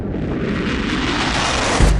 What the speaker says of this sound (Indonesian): sebuah kompor gas yang sedang dipakai untuk memasak mendadak hancur karena ledakan kecil